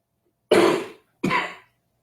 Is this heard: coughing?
yes